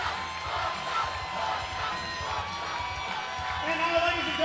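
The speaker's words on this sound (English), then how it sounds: "Tommy Hawk's getting the crowd all riled up down to our left." Crowd at a Glenbrook South versus Glenbrook North high school hockey rivalry game cheering and shouting steadily in an arena, a continuous dense roar with scattered whoops throughout, swelling slightly near the end.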